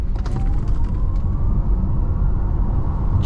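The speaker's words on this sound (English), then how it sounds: "kind of punch it and see how fast we can get the car up to speed" A 2022 Audi e-tron GT Prestige electric car accelerates hard on the road, with a rising electric motor whine over steady heavy road and wind rumble, heard from inside the cabin.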